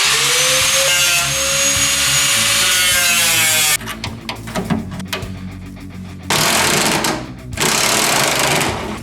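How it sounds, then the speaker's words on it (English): A power tool cuts through the sheet-metal front fender of a 1965 Mustang, loud and close, with a steady high whine that breaks into rough grinding chatter, pauses briefly, then resumes. "So I'm gonna cut the fender"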